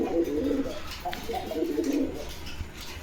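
Pigeons in a loft coo in soft, repeated throaty phrases, a few overlapping calls close by against a quiet background.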